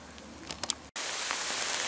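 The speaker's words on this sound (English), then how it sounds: "It started pouring rain" Steady rain pours in a dense, hissing wash after a brief cutout at Wyndcliffe Court garden in Wales, preceded by a few faint taps and rustles.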